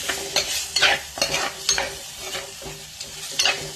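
Boneless fish pieces go into a frying pan and are stirred, with a close sizzle broken by repeated scraping strokes of a spoon against the pan, no talking.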